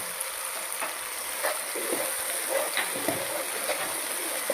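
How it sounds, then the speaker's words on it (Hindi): A steady sizzle of food frying in a pan, with occasional soft stirring taps and clicks scattered through it. "इसको भी मैं थोड़ा सा फ्राई कर लूँगा"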